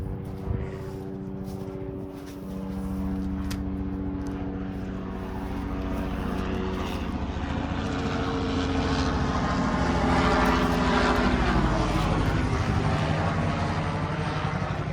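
A low droning aircraft engine with propeller hum builds steadily louder over fifteen seconds, as if passing overhead.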